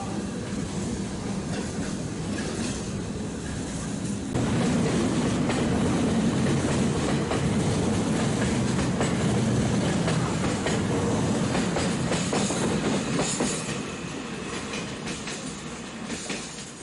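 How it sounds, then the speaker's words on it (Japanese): Freight trains in Fujian, China, each double-headed with a helper locomotive, pass close by on a mountain descent at dusk, a loud steady rumble of wheels and rail clatter that swells after a few seconds and fades near the end. "とにかく大量の貨物列車とすれ違い、その全てが補助機関車を連結して重連で走っています"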